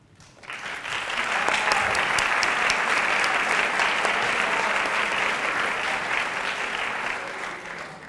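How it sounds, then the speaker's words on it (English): Applause swells quickly from near silence into a full, loud round of clapping from a school audience honoring a guest at Brookstone School, holding steady before easing slightly at the end. "we'd like to ask him to stand for a round of applause"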